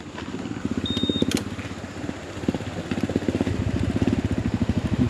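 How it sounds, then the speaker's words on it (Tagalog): A Honda ADV 160 scooter engine starting after a river crossing putters close by, running with a fast, uneven chug that rises in rhythm toward the end. "try ko nga kung mag-i-start pa itong motor ko"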